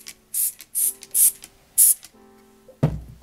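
Four short bursts of aerosol rust protector sprayed onto both sides of a saw blade, close and crisp, followed by a clunk as the can or blade is set down.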